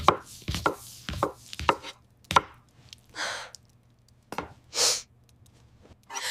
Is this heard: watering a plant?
no